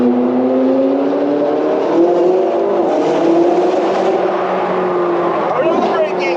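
A McLaren 675LT engine pulls hard on a race track, its loud, steady in-cabin drone rising and shifting in pitch as it accelerates, with voices talking over it.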